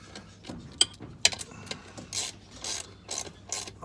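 Nuts with spring washers are tightened onto bolts during a Stihl 070 to 090 chainsaw conversion, with a sharp ratchet click, a second click soon after, then a run of quicker ratcheting and rubbing mechanical clicks.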